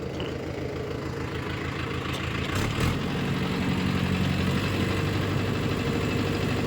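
A Mahindra Yuvo tractor engine drones steadily while pulling a 585 50HB rotavator through a field, a continuous low rumble with grinding vibration and no talking.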